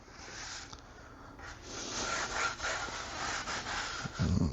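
Cleaning cloth rubbing over Lotus Evora carbon fiber A-pillar trim, a steady close scrubbing and wiping that swells in strokes and grows louder toward the end, with no talking.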